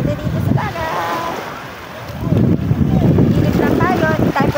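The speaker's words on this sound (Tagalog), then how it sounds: "Malaki ang alon. Aray ko. Malaki. Lumalaki yung alon." Rough sea water sloshes and crashes against a boat amid heavy wind buffeting and big waves, with people shouting and talking over the churning sea.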